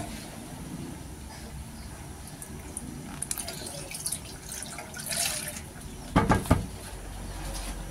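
Water poured from a tap or container into mung beans in a cooking pot, a soft running and splashing stream with a couple of louder bursts near the end, faint birds in the background.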